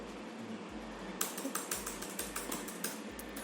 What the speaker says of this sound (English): I am typing manually